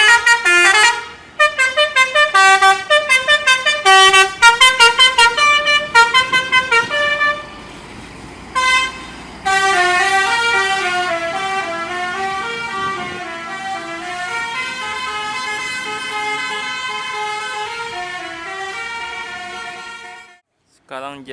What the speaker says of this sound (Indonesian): sudah banyak bus yang meninggalkan dan datang ke dalam terminal ini